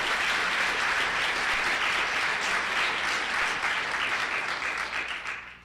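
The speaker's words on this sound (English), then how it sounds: "A special hand for Rachel" An audience applauds warmly at a community event in Saskatoon: a dense, steady wash of clapping for about five seconds that tapers off at the end.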